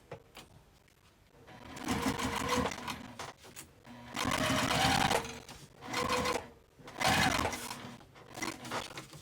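A sewing machine topstitches the seam of an apothecary tote in several bursts of rapid, steady mechanical whirring, each run separated by short pauses, close by and fairly quiet.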